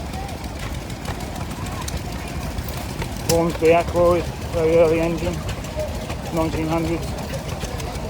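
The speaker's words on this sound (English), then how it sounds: "Hornsby Ackroyd, very early engine." An early Hornsby Ackroyd stationary engine runs at a tractor fest at Newby Hall, its steady low idle sitting under a voice talking close by.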